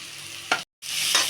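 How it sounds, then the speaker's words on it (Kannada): Tomato and sprouted legumes fry in a pan with a steady sizzle, broken by stirring scrapes and a brief gap of silence midway. "ಒಂದು 2 ನಿಮಿಷ ಇದು ಫ್ರೈ ಆಗಲಿ"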